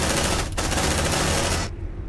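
Sustained automatic gunfire in the sci-fi video game Aliens: Dark Descent, a dense loud barrage with one brief break, cutting off sharply near the end.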